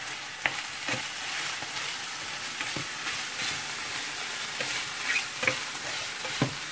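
Mushrooms, chickpeas, ham and chorizo frying in a pan with hot paprika, stirred in short scraping strokes over a constant soft sizzle, with occasional sharper clicks of the utensil against the pan.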